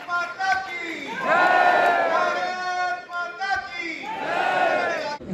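A large crowd at a social media influencers' meet-up in Ahmedabad roars a patriotic victory slogan in unison. The chant rises in loud, sustained waves of many voices, swelling and falling twice.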